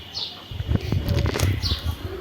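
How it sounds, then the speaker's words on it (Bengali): Pigeons moving around a poultry farm give brief flutters of wings and soft calls nearby, with a faint rustling farmyard background. "অশোক কবুতরগুলো ঘুরে বেড়াতেছে ওই দেখুন"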